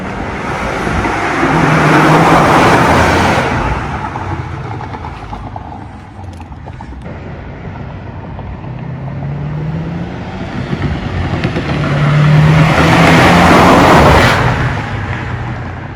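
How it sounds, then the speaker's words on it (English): A stock Subaru with its factory turbo setup passes by twice, swelling from far off into a loud, close rush of engine and tyre noise, then fading away before the next pass. "right now we're gonna go get some flybys and some inside turbo noises of how it sounds stock"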